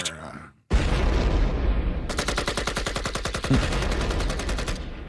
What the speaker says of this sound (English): That sounds like a real gun.